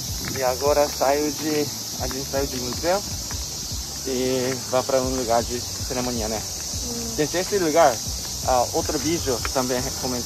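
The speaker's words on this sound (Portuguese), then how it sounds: "esse barulho que vocês estão ouvindo é o barulho da cigarra." Cicadas droning steadily through a Japanese summer day, a continuous high buzz filling the background while people talk over it throughout.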